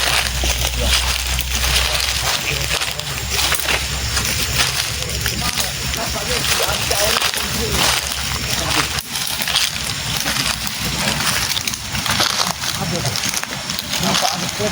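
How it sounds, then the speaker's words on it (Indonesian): A river flowing nearby gives a steady, full rush of water across the whole stretch, with people talking over it throughout. "sudah terdengar suara aliran sungai di sini ya"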